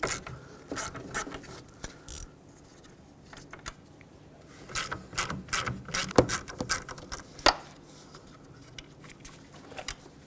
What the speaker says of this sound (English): let's unbolt the latch. Two 10mm screws.